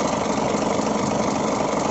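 An Isuzu Forward cargo dropside truck with crane idles its diesel engine, producing a steady, close, continuous rumbling drone with a slight throbbing pulse and no talk.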